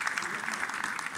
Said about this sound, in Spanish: Un fuerte aplauso también para él, por favor.